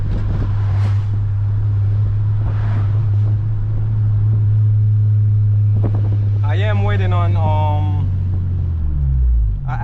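An 8th-generation Honda Civic Si with VTEC and stock exhaust drones from inside the cabin at a steady low pitch, with someone talking over the engine toward the end.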